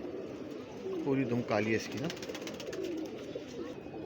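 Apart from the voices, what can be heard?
kaldum pigeons cooing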